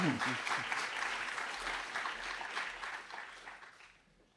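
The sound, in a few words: audience applause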